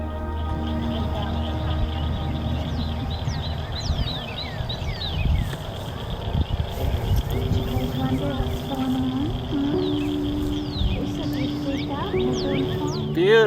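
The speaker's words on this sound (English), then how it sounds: "after the light faded, the frogs started chirping" Frogs chirping beside a pond as daylight fades during a total solar eclipse, repeated rising calls scattered over a steady insect-like drone, with voices talking underneath.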